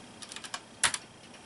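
Quick, faint keystrokes on a computer keyboard entering a command in the game Quest for Glory 2, a short run of light clicks ending with one firmer key press.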